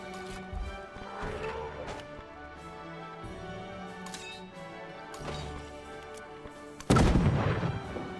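Units firing guns in the Civilization VII strategy video game: a few scattered muffled shots over game music and ambience, then a loud sharp volley of gunfire near the end.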